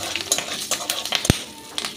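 Whole spices — cinnamon, cardamom, cloves, cumin seeds, two bay leaves and slit green chillies — crackle and sizzle in hot oil for tempering, with scattered pops, a sharp clack of a spoon or pan, and a soft, steady fry underneath.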